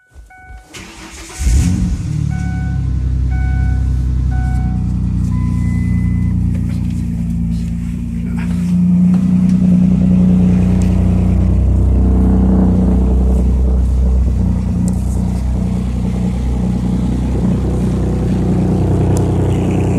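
A Ford V6 truck engine fitted with a motorcycle exhaust muffler cranks and catches, then runs with a loud, deep, raspy exhaust rumble that swells as it is revved, steady and close.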